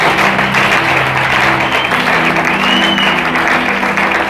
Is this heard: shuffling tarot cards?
no